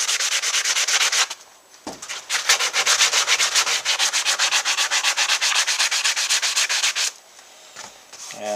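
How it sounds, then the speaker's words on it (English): Coarse sandpaper scrubs a carbon fiber reinforced skid plate for a KTM 690R in steady, rapid back-and-forth strokes, close and loud, with brief pauses between bursts of sanding. "So I'm going to get some really coarse sandpaper."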